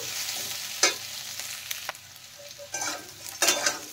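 Potatoes and radish are stirred and fried in a pan, giving a continuous sizzle broken by several sharp scraping bursts from the utensil, close and fairly loud, and no one talks.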